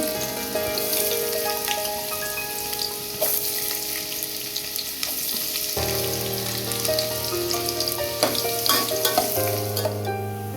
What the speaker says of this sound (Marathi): मसाला गरम झाल्यानंतर हा कांदा घालणार आहोत